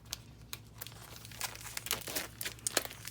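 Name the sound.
scissors slicing open plastic packaging of a kit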